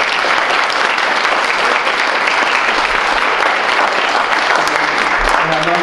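A crowd at a community voter-mobilization meeting gives a full round of applause. The clapping is dense, steady and evenly loud for about six seconds, with no break.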